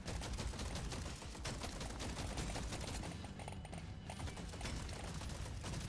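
Continuous automatic gunfire rattles nonstop from weapons firing on their own in Deep Rock Galactic Survivor, a steady dense stream of shots with no talking.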